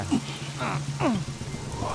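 Steady rain falls in a film scene, a soft, even hiss of drops on surfaces running throughout beneath people talking.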